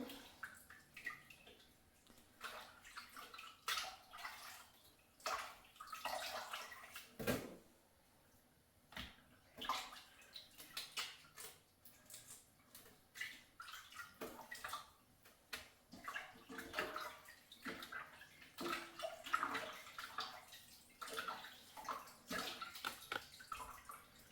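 Cut fish for a fish curry is washed under running water, with splashing and sloshing coming in irregular bursts between quieter pauses, close by and fairly faint, with no talking.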